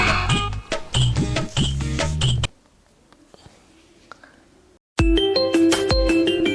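A phone rings in a Chhattisgarhi comedy skit: bursts of bright, tinkling ringtone melody, then a pause of near silence, then the ringtone resumes, loud and close.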